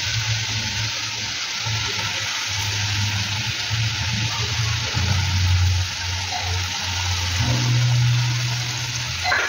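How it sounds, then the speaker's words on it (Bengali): Small fish dropped into a pan of boiling curry gravy, a loud continuous bubbling sizzle with occasional shifts in tone as the fish settle, no voices. "এবার আমি মাছগুলো ছেড়ে দিচ্ছি"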